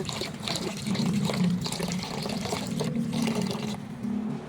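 Glutinous rice being washed in water for suman, a steady close swishing and pouring of water with light splashes throughout, with no talking.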